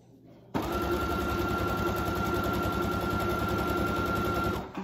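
A sewing machine runs steadily for several seconds, stitching a cloth face mask with string ties, a loud continuous motor whir with rapid needle rhythm starting abruptly and holding until a brief slowdown at the end.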